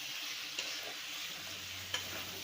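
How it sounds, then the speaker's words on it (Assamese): Mutton with freshly added chopped tomatoes fries in a pan, giving a steady, fairly quiet sizzle with a couple of brief clicks of stirring and no talk. "এতিয়া দিব লৈছোঁ কাটি থোৱা বিলাহীখিনি আৰু অলপ টাইম ভাজিব লাগিব।"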